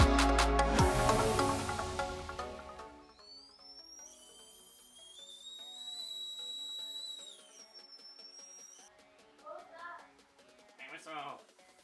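A Tesla Cyberwhistle, a metal whistle, blows a long, steady, shrill tone lasting several seconds, following loud rustling, with a few short chirps and noises after it.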